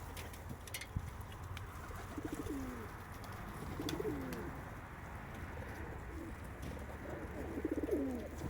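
A pigeon coos softly a few times, low and rounded, against a steady background of outdoor rumble and hiss.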